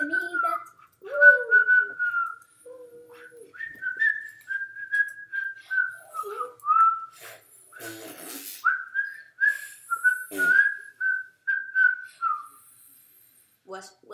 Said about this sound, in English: Whistle session right there.